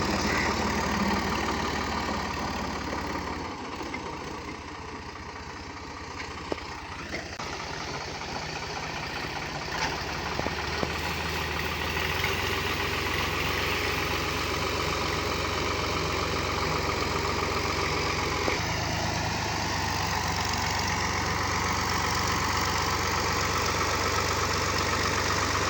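A tractor engine runs steadily at idle, a low continuous rumble with slight shifts in tone, fairly close and alone for most of the stretch.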